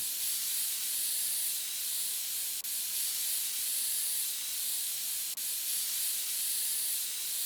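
A can of compressed air sprays in PC Building Simulator, giving a continuous loud, bright hiss with two tiny clicks and no pauses.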